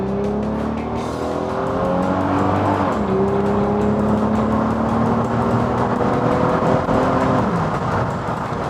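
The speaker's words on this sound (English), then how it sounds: "then you can shift it in manual and wind through the gears" A Plymouth Prowler accelerates hard through the gears in manual shift mode. Its engine note climbs steadily, drops at a shift, then climbs again toward another shift, all heard from inside the car without speech.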